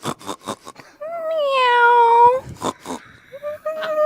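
A voice imitates a cat's meow: one long, drawn-out meow, then a shorter one near the end, with brief talk before and between.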